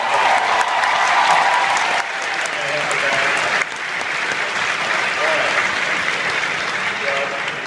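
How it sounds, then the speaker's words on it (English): A crowd at a Comic Con panel in New York City claps in sustained applause that fills the room, with a brief dip partway through and faint voices mixed into the clapping. "Big round of applause for our guy."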